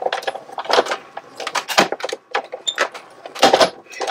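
Paper with washi tape scraps, sandwiched with a steel plate, is cranked through a die-cutting machine. It gives a series of loud metallic clunks and rattles in an uneven rhythm, close to the microphone.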